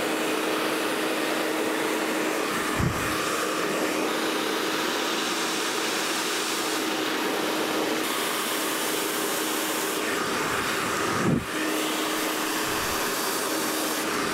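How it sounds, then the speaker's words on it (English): A hair dryer blows continuously while afro-textured hair is blow-dried, a steady loud whooshing hum with a couple of brief bumps as it moves, close by and alone without talk. "So we finished my casually fabulous blow dry."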